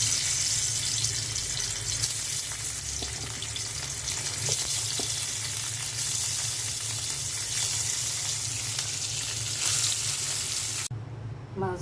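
Bele fish coated in spice paste fries in oil in a frying pan, giving a steady, loud hissing sizzle throughout with occasional crackles, ending abruptly near the close.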